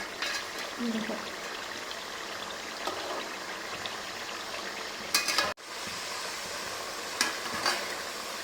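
Fish pieces shallow-frying in hot oil for a home-made Kerala-style fish pickle, a steady soft sizzle with occasional scraping stirs and a sharp clatter of a pan or spoon midway.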